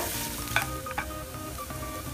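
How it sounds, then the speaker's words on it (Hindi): Spices and salt being stirred by hand into wheat-flour dough for aloo puff, a steady close rustling and scraping with a couple of brief sharper clicks, no talk. "मिक्स करेंगे इन्हें अच्छे से।"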